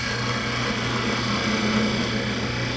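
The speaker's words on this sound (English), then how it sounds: "We'll face off the end here using the skew chisel." Wood lathe spinning a wood block while a skew chisel faces off the end: a steady, continuous whirring motor drone with a faint scraping hum, constant in level throughout with no talking.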